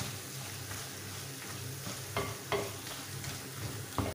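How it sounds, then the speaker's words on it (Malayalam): Tomatoes sautéing in oil with salt for a Kerala tomato fish curry, a low continuous sizzle with a few sharp spoon scrapes against the pan, nearby and quiet, no talking. "ഇതെല്ലാം നന്നായിട്ട് ഒന്ന് വഴന്ന് വരട്ടെ."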